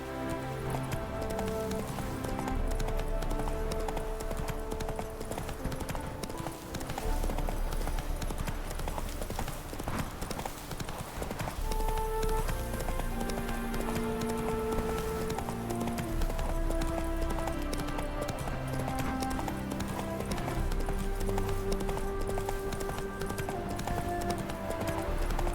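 Roach the horse gallops in The Witcher 3, with steady clip-clop hoofbeats running under game music for the whole stretch, fairly loud and continuous.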